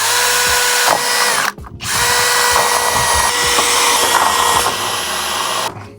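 A power drill with a 10 mm bit bores into concrete while a window frame is being replaced, a loud close grinding whine running almost continuously with one brief stop partway through and a short pause near the end.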